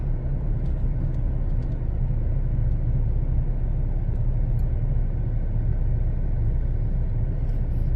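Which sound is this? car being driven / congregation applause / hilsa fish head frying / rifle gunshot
car being driven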